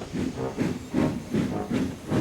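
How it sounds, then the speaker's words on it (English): A cartoon steam engine from Thomas & Friends chuffs rhythmically, about six hissing puffs of steam in a steady beat as it pulls out of a station, fairly close and loud. "Gordon wheeshed some steam and pulled out of the station."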